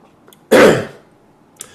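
A single harsh cough from a man fighting off a cold, loud and close, bursting out once and fading over about half a second, with only quiet room tone around it and no talk.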